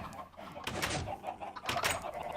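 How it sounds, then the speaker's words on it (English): Several chickens in the video game Minecraft (Tekkit Lite) cluck and squawk in short overlapping bursts, close and lively, with no talking. "Look at how many chickens are in this one area."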